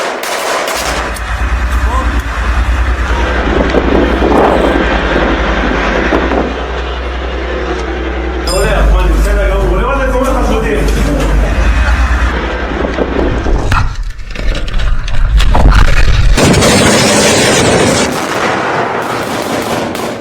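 Air strikes by fighter jets and missiles: dense, continuous roaring blasts and rumbling explosions with rattling bursts like gunfire, loud and close, with a brief stretch of indistinct voices in the middle.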